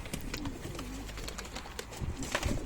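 Low, throaty coos from breeding pigeons repeat close by over a steady rustling background, with a few soft calls overlapping.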